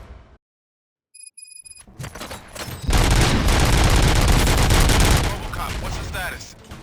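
Rapid bursts of gunfire in the video game Robocop: Rogue City erupt after a brief silence, loud and sustained, then ease to a slightly lower roar of continued shooting.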